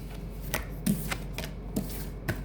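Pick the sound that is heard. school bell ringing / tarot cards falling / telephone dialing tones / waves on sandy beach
tarot cards falling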